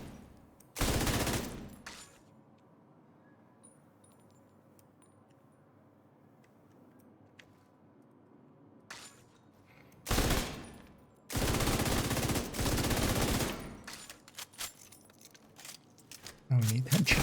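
Video-game gunfire aimed at body shots comes in separate loud automatic bursts, one near the start and several heavy volleys later, with quiet gaps between them.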